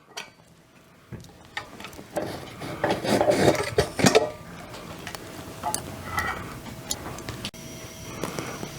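A pressure cooker lid is worked open after cooking mutton gravy, with close metallic scraping, clicks and rubbing knocks clustering mid-way, then lighter handling clatter.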